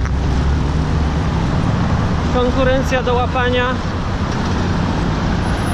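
Congested traffic on the road towards Almaty rumbles in a dense, continuous roar of engines, with someone speaking over the noise.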